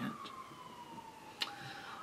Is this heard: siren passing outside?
yes